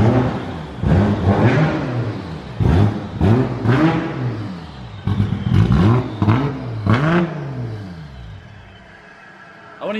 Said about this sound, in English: you gotta hear the GTR